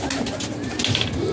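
Pigeons cooing at a pigeon club loft, low rolling coos repeating over a busy background, close and fairly loud.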